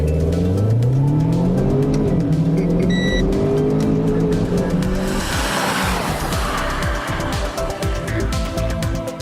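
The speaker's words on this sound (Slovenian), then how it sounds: "Pritisneš obe tipki, leva noga na zavoro, desna na plin, vrtljaji se naberejo in gremo." Renault Clio RS EDC hatchback from 2013 doing a launch-control start, engine revs building then surging away with rising gear tones, tire noise and a rushing wash as the car accelerates hard.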